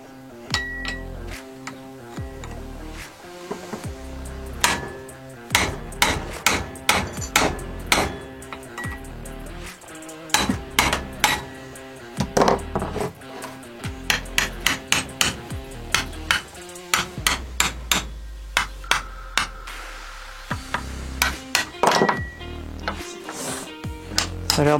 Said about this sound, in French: Donc on va essayer de taper.